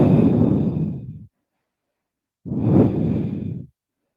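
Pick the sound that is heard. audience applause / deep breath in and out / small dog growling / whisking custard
deep breath in and out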